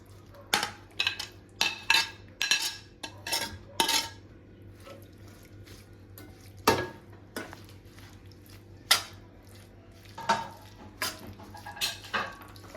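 A metal spoon stirs and scrapes lemon pickle in hot oil with chili powder in a pan, giving irregular sharp clinks and knocks close by, alone with no talk.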